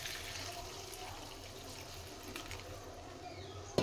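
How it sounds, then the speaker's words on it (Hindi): Water is poured into a pan of jackfruit kurma in a kitchen, a soft continuous splashing trickle that stays steady and faint throughout, with no talking over it. "आवश्यक अनुसार आमे पानी दे देबा"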